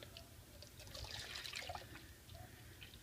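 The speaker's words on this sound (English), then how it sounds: "We're going to pour 1½ cup of milk into our saucepan." Milk pours from a container into a saucepan as a soft, continuous liquid trickle lasting a few seconds, quiet and close with no talking.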